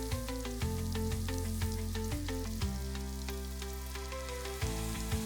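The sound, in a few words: cumin seeds sizzling in hot oil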